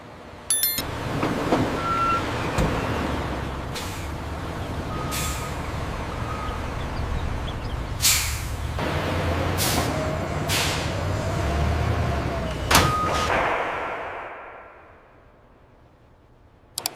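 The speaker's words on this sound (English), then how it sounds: "trucks depart carrying market-ready quail eggs" Trucks departing from a quail egg factory, with repeated reversing beeps, loud hisses of air brakes and a heavy diesel rumble nearby, fading toward quiet at the end.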